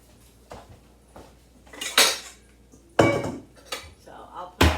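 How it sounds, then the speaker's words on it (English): Dishes, cutlery and pots are put away in a home kitchen, with a series of clattering clanks and clinks at irregular intervals, several sharp knocks standing out close by. "So I'll put some of these dishes away."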